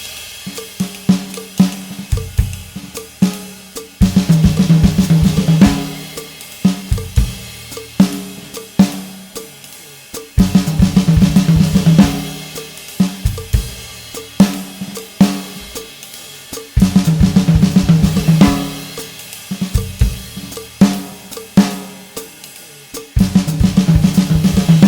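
Drum kit playing Swiss triplet rudiments through a 4-bar phrase in a medium swing feel, with crisp rhythmic strokes and accented flurries repeating in even cycles, played alone with no talking.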